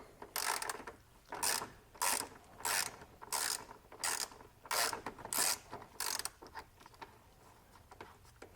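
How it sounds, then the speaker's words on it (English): A 10mm socket ratchet clicks in repeated bursts while loosening a single bolt on a Toyota 2JZ engine, about nine close, crisp strokes with brief pauses between them and no talking. "I'm going to take off the snorkus using a 10mm socket"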